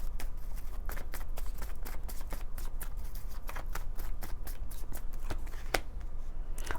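Tarot cards being shuffled and drawn: a steady, close run of soft riffling and flicking snaps, with a quiet low background hum throughout.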